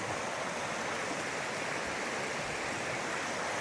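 Creek water rushes steadily past on a backcountry trail in Georgia after recent flooding, a close, continuous broadband hiss and gurgle with no pauses.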